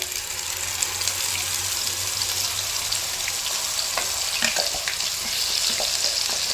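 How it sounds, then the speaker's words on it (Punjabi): Tomato-onion masala paste fries in hot oil with cumin seeds, giving a steady close sizzle with scattered spits and light stirring scrapes throughout. "ਪੇਸਟ ਪਾ ਕੇ ਇਹਨੂੰ ਤੁਸੀਂ ਪੰਜ ਤੋਂ 6 ਮਿੰਟ ਪਕਾਣਾ ਹੈ"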